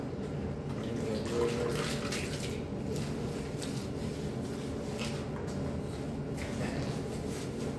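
Water runs steadily from a tap in a continuous splashing hiss, close by, with faint clinks and a few drips over the flow.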